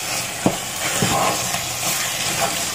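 Carrot halwa being stirred with cardamom powder in a pan, giving soft scraping strokes over a steady low sizzle, with a few distinct stirring knocks and no talking.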